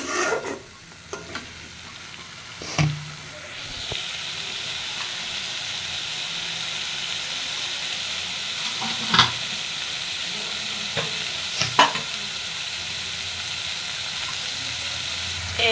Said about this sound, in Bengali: এবার মশলাটা সুন্দর মতো কষায় নিব